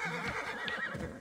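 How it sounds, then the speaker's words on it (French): Horses neigh in the video game Immortals Fenyx Rising, a steady whinnying with light background game ambience and no speech over it. "Là, il y a des chevaux, tiens."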